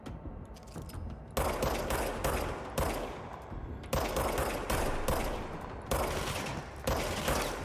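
Enemies shooting guns in the game Control, loud repeated bursts of gunfire arriving in sharp clusters about once a second, close and punchy with brief gaps between volleys.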